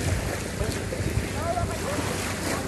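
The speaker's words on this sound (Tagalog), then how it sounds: "At ito po yung dagat, actually, guys." Sea waves at a beach resort in Quezon Province wash in a steady, close roar mixed with gusty wind buffeting the microphone.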